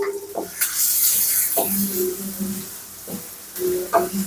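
Chopped onion and green chili sizzle in hot oil in a pan, cooked as the base for a ridge gourd fry. Bright frying hiss comes with a few short stirring knocks and faint voiced tones.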